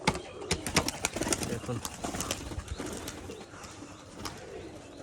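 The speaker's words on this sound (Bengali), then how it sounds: "তো এই যে কিন্তু সেই পায়রা দুটো" Pigeons at a Rajshahi pigeon-selling loft coo and flap their wings close by, with soft rustles and sharp wingbeat bursts scattered through, while someone talks over them.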